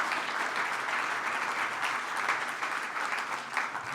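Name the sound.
audience applause for the crew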